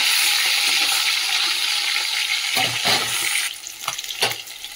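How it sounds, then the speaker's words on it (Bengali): A fish fries in hot oil in a home kitchen, giving a loud, dense, steady sizzle that eases off near the end, broken by a few scraping clatters of a spatula. "এক পিঠ হয়ে গেছে ভাজা, এই যে মাছটা এবারে উল্টে দেবো।"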